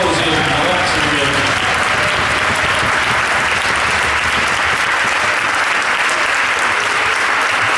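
Audience applause at a Tartu dance competition, a dense roar of many hands clapping that stays loud and steady throughout, with faint voices mixed into the crowd noise.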